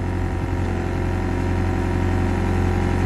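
Excavator diesel engine running loud and steady under throttle, a continuous close-up drone with strong low rumble and no distinct rise in revs.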